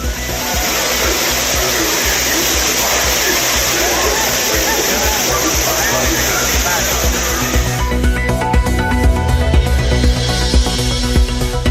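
Courtallam waterfall on New Year's Day with tourists bathing, a loud continuous rush of falling water for most of the span, then a shift to a broken, splashier wash in the final seconds.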